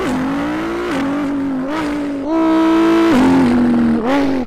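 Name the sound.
voice imitating a Pagani Huayra supercar engine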